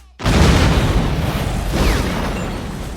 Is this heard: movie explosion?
yes